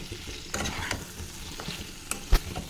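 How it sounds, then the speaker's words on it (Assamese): Potatoes and tomatoes frying in a pan for a simple chicken dish, with a soft sizzle and a few scraping stirs close by. "আৰু ভালকৈ এইখিনি এতিয়া মই লৰাই থাকিম"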